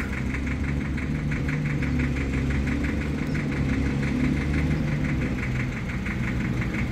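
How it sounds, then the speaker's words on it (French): An old tractor engine idles steadily nearby, a continuous low chugging knock with a faint rhythmic rattle. "Regardez le vieux tracteur."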